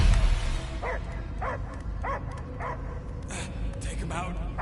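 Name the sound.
dog barking in Marvel's Guardians of the Galaxy video game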